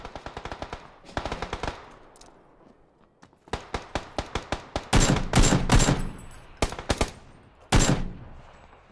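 Rapid automatic gunfire and shot bursts from the PUBG video game, dense volleys of close shots with short gaps, growing heavier and more sustained toward the end, no talking over it.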